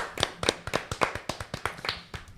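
A small group claps in a podcast studio with quick, evenly spaced, close-up hand claps that keep up for a couple of seconds and then trail off, with no voices.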